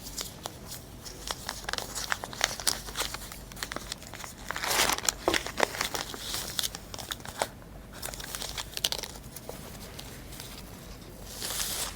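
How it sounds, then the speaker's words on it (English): Oil paper crinkling and rustling while it is wrapped around a fuel injector valve assembly part for shipping, a close, continuous run of crackles with a few louder crunches and no talk. "This is the oil paper to wrap it up."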